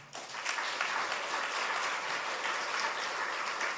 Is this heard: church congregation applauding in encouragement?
yes